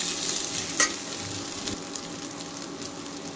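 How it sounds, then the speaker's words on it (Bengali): Young jackfruit and potato frying in a pan, a steady soft sizzle with occasional stirring scrapes and one brief louder clatter, alone without talk. "আলু আর এঁচোড় ভালো করে ভাজা হয়ে গেছে"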